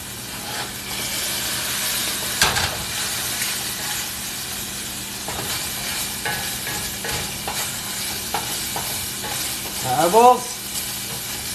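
Garlic sizzling and frying in olive oil as it is stirred quickly in a pan, a steady close hiss with scraping stir sounds and a brief spoken word.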